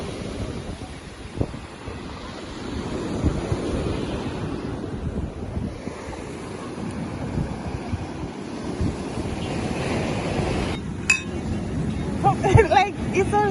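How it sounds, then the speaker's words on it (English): Waves roll in steadily on a quiet Jamaican beach at night near a bonfire, a constant surf wash under gusts of wind. Faint murmuring voices and a few light clinks rise near the end. "as you can still hear the rushing of the waves."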